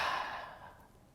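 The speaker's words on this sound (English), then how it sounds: "stick the tongue out, take a deep breath out." A forceful exhale out of a wide-open mouth with the tongue out, lion's breath in a yoga pranayama practice, a close breathy rush that tails off within about a second, alone.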